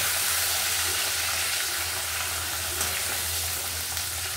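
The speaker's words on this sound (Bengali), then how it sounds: "তেলের মধ্যে হলুদ দিয়ে দিচ্ছি আলু ভাজার জন্য।" Potatoes fry in hot oil with turmeric, a loud, unbroken sizzling hiss close by that holds steady throughout, with no talking.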